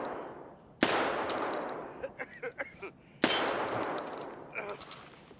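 Two loud, sharp gunshots from the Escape from Tarkov video game crack out a few seconds apart, each trailing off in echoing reverberation, with metallic clinks and short shuffling sounds between them.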